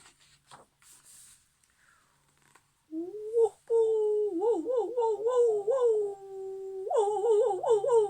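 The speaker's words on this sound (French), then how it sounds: "Il aboie à la lune." A dog howls at night in a long, wavering, rising-and-falling cry, loud and close, broken by a short pause before it resumes.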